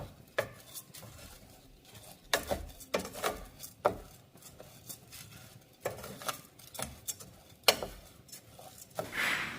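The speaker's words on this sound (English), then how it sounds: "just keep mixing and coating the rice in the cooking oil and toasting it evenly" Long grain rice stirred and toasted in cooking oil in a pot, with repeated scraping strokes of a utensil and soft clinks against the pan, close and fairly quiet.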